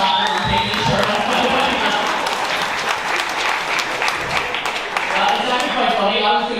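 A comedy club crowd breaks into dense, sustained applause and clapping, loud and continuous, with a voice speaking over the clapping at points.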